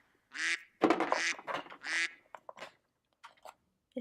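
A toy duck or goose call from a farm animal puzzle: a few nasal quacking honks in quick succession, fairly loud and close, followed by softer scattered clicks and small sounds, with no talking over it.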